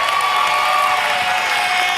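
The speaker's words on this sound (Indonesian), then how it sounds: "Tepuk tangan dong, sekali lagi dong." Studio audience on the Family 100 game show clapping and cheering, a dense, steady wall of applause that is loud throughout the short burst.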